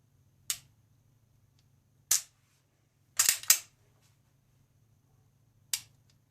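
Sig Sauer P226 pistol trigger resetting: four sharp, isolated clicks spaced over several seconds, the third a quick double, close and fairly quiet over a steady low hum.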